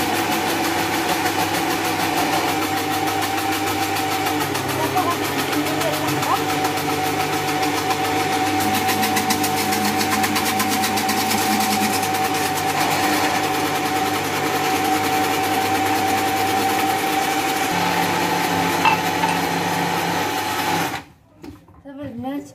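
An electric hand mixer whirs steadily while beating cold cheesecake batter as oil is poured in, a continuous loud motor drone for about twenty seconds that cuts off near the end.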